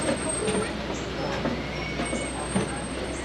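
Open safari truck riding along a dirt track, a steady low engine rumble with creaks and rattles over it and a faint high whine, near and continuous.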